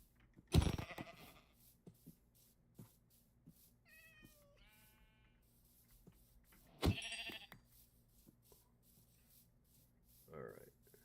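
Sheep in the Minecraft video game bleat in brief, distinct calls at moderate volume, spaced apart with quiet stretches between, alongside a few other short game effects.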